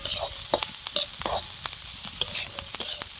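Food frying in oil in a pan sizzles close up, with quick irregular stirring clatters and scrapes over a short burst and no talk.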